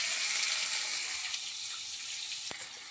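Onions hit hot oil in a pan with a chicken curry on the go, giving a steady close sizzle with a bright hiss that eases slightly, then a short clatter near the end.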